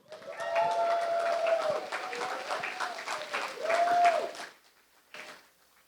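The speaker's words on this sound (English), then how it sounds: "There's a lot of clapping during this talk." Audience clapping at a hackathon organizers' conference talk, a swell of applause from a crowd with a tonal whistling sound over it, fading out then a short final flurry.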